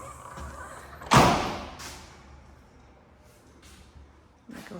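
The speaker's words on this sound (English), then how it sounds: "Go ahead and shut the doors." A door in a house shuts with one sharp, loud thud. Fainter knocks and bumps follow, and room noise and a light voice sit beneath them.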